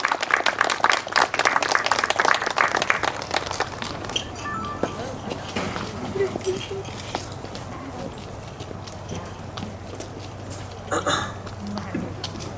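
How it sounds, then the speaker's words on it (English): Audience applause welcoming Aden Thao home, a dense patter of clapping that is strongest over the first few seconds and then thins into scattered claps and crowd murmur. "Can everybody please give a warm round of applause to Aden Thao."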